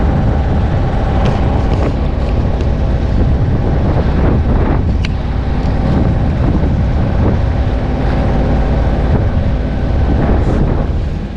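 Steady wind of about 12 knots roars across the microphone aboard a boat heading into the wind off Diamond Head, Waikiki, with water and hull noise beneath, loud and continuous throughout.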